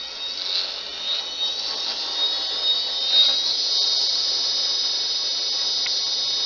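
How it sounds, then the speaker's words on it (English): A skew chisel cuts into square wooden stock spinning on a wood lathe, giving a steady high hissing whine that holds loud and even throughout, with slight surges as the edge bites. "Now I'm just going to take my skew chisel,"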